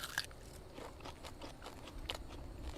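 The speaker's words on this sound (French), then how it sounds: "On peut nous entendre croquer" Several people bite into fresh radishes at a market: sharp crisp crunches, one strong bite at the start and another near the end, with quieter chewing between them.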